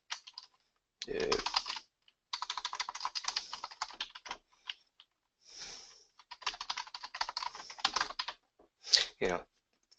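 Someone types an email address on a computer keyboard in several quick bursts of close, crisp keystrokes separated by short pauses.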